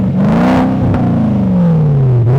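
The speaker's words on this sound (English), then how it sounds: "we have a stainless TIG welded pie cut exhaust with a Borla muffler on it." A Porsche Cayenne off-road build with a stainless TIG-welded pie-cut exhaust and a Borla muffler revs steadily, a loud, close engine drone whose pitch rises and then eases off over a couple of seconds.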